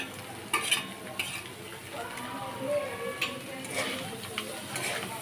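Bitter gourd, potatoes and egg fry together in an oiled pan, a steady soft sizzle broken by repeated scraping stirs and light utensil clinks, with a faint voice briefly underneath.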